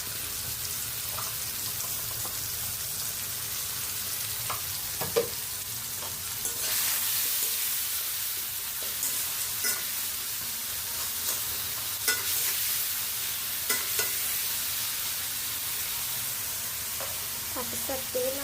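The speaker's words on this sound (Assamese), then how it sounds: "বিলাহীটো ভাজি থাকক" Tomatoes fry in a pan with steady close sizzling, broken by scattered scraping clicks of stirring throughout, with no talking.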